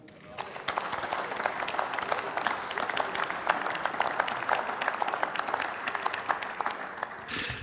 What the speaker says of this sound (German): Viel Applaus für Ingrid Pahlmann aus ihrer eigenen Fraktion